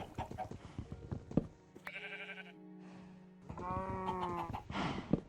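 Sheep bleating in the Minecraft Skyblock video game, several drawn-out wavering bleats close and clear, separated by short gaps with light game clicks between them.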